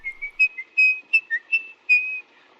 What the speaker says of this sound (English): we see the use of shadows and the sound of Laurie whistling